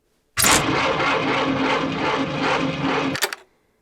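A small engine cranks and briefly catches, running roughly for about three seconds with a loud, close buzzing drone before cutting out abruptly, with no talking.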